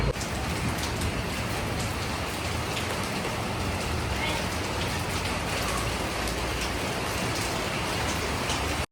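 Steady rain pours down at night before a Ugadi festival, a dense, even hiss of drops striking surfaces that carries on without a break, close and constant.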